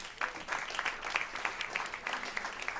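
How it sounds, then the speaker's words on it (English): A conference audience applauding as a guest joins the speaker on stage, a brief dense patter of clapping at moderate volume. "So please give a round of applause as Fernando joins me on stage."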